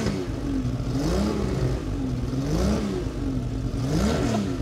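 A Ferrari 275 GTB engine revs repeatedly at CarFest, pitch rising and falling in three close, loud sweeps over a steady idle rumble, with no talk.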